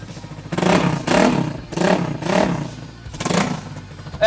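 A KTM Duke 250 motorcycle with its exhaust fully closed is revved up close in four or five short throttle blips. The rising and falling roars are separated by a lower idle.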